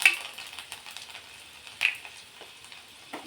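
Finely chopped garlic hits hot oil already crackling with cumin, mustard seeds and a pinch of asafoetida, giving a soft sizzle with sharp spattering pops and clicks near the start and middle.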